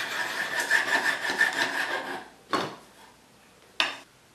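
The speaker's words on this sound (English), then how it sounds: "I'm going to take some curved files. Keep going so I smooth everything up." Curved files rasping over the rough wood of a shoulder plane kit, a close run of quick rhythmic back-and-forth strokes followed by two separate single scrapes, no talk.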